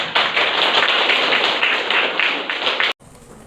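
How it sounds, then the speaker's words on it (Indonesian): An audience applauds a group taking its turn at a counseling presentation session: loud, dense, even clapping from many hands for about three seconds, then it cuts off abruptly. "Kita berikan aplaus."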